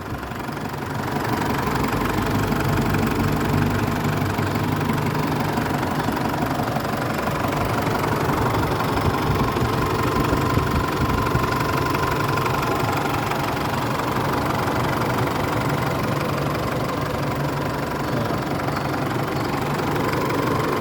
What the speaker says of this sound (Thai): นี่ครับ เสียงเครื่องนิ่งๆเลยครับเงียบๆเลย